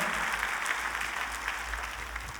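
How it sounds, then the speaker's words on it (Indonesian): A church congregation claps during a sermon, a continuous even patter of many hands heard at moderate distance over a low hum, steady without a clear peak. "Kita kasih tepuk tangan yuk yang meriah buat Tuhan kita."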